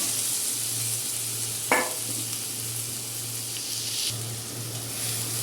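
Ground spice masala fries in hot oil for a bitter gourd dish, a steady bright sizzle with one brief scrape or clatter near the start, close and constant, with no talk.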